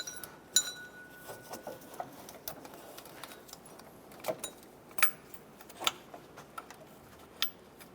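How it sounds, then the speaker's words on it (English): Engine mount bolts are fitted on a 2008-2012 Honda Accord, heard as faint, scattered metallic ticks, clinks and taps of hardware and tools at irregular intervals in a quiet space. "I'm going to install our 2 bolts."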